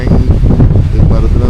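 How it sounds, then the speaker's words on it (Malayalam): Strong wind sweeps across the Panchalimedu hilltop at sunset, near a lone tree, roaring as a loud, continuous low buffeting against the microphone for the whole stretch. "നല്ല കാറ്റടിച്ച് അടിച്ചുകൊണ്ടിരിക്കുകയാണ്"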